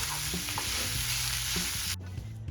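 Potatoes being stirred with spices for vada pav in a hot pan, a steady close sizzle under repeated scraping strokes of a spoon, with the frying hiss cutting off near the end.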